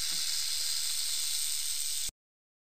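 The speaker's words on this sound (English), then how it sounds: "Snake." A snake gives a continuous, loud, breathy hiss for about two seconds, steady and close, then stops sharply.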